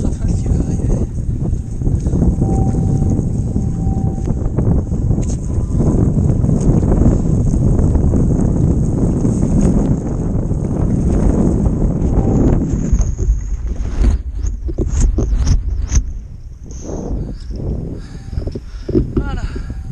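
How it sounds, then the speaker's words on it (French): Loud wind buffets the microphone while kitesurfing in light wind on a Gong SP 9m kite, a steady roaring rush that swells and eases toward the end. "petite rafale qui va arriver."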